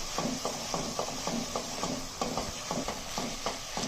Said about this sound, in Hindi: अब हम इसमें ये मिक्सचर जो हमने बना के रखा हुआ था ये ऐड करेंगे, 2 टीस्पून, और इसको मिक्स करेंगे हम।